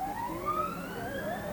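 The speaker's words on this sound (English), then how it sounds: "the ambulance is actually going to have a police escort" An ambulance siren wailing with a police escort, rising and falling tones sweeping upward at a moderate distance over a low traffic rumble, with no talk.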